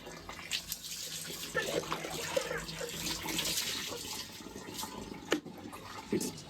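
Warm water is poured over a child during a bath at home, with irregular splashes and gushes close by, and soft voices underneath.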